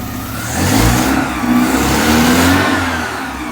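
A Porsche 944 engine with fuel pressure trouble revs up and down repeatedly, rising and falling in pitch with a throaty mid-range growl, loud and close.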